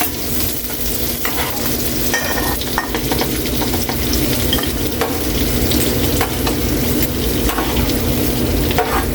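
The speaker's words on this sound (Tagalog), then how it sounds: "Gigisa na natin ulit" Onions sautéing in a frying pan for pork steak, a continuous close sizzle with intermittent scraping and stirring clatter throughout, no talking.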